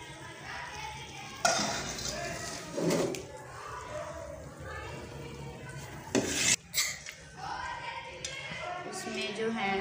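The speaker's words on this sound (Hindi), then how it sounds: "इसको अच्छी तरह से बाउल में डाल देंगे।" Dal halwa scraped and poured from a metal pan into a bowl, with repeated clanks and scrapes of a spoon against cookware, loudest in sharp knocks, over a low kitchen background.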